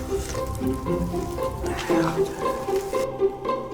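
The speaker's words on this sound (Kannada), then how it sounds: "ದೇವರು ಕುಯ್ದಿರೋ ಅಂತ ಮೀನನ್ನ ಹಾಕ್ತವ್ರೆ ಪಾತ್ರೆಗೆ." Pieces of cut fish are dropped into a cooking pot and begin to sizzle. The frying is moderately loud and sits under steady tonal background sound, with faint voices.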